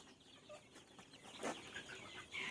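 Native country hens and their young chicks cluck and peep faintly in a pen, with scattered soft calls and no one talking.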